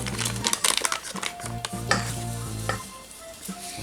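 Chocolate flan goes into a homemade slime mixture with wet squelching, stirring and crinkling sounds in quick close bursts. No voices.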